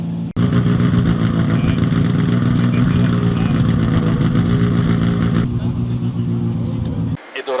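A Ford Fiesta WRC rally car engine drones loudly and steadily close by, holding a rough mid-pitched note for several seconds before cutting back near the end.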